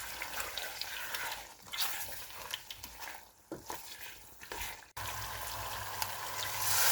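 Half a kilo of thickly sliced potatoes sautéing in masala for aloo gosht, a mutton and potato curry: a quiet, continuous sizzling hiss broken by scraping and clinking stirs in the pan, with a steadier hiss after a brief cut.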